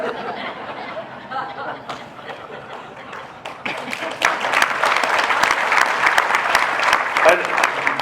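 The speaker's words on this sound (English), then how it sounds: "you're clapping for that comment" Audience clapping at a Hall of Fame induction speech, starting as a voice talks over a quieter crowd, then swelling into dense, loud applause with some laughter mixed in for the last several seconds.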